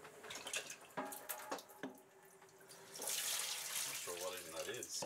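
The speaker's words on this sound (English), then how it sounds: "Here, the excess salt water spills out the side." Excess salt water from a sailboat's water maker pours out the side of the hull, a splashing gush that swells louder in the second half, with brief clanks and a faint voice-like tone near the end.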